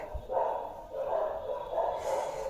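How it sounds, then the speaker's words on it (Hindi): A dog barks outside in a residential lane, a few distant, muffled bark pulses repeating in a loose rhythm over indoor room noise. "गली में कोई भी आ जाता है तो फिर ये जो डॉगी है ये भौंकना चालू कर देते हैं।"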